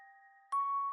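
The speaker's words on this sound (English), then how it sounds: "A small bell rang, not sharply, but like a memory being stirred." A small bell on a cafe door rings once with a clear, sustained chime that rises over a soft, tonal background and lingers.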